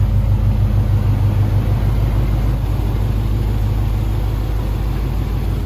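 A supercharged Ford F150 truck rolls under its own power with a deep, steady engine rumble and throb, close and loud, without talk.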